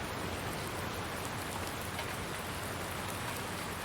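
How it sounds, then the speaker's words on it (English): Steady rain falls in the Farming Simulator 19 game world, an even, dense hiss of drops on surfaces that stays constant throughout, with no voices. "It's been raining constantly."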